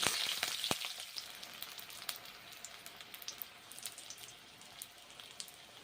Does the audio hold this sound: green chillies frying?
yes